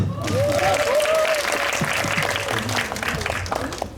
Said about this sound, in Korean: 큰 박수입니다.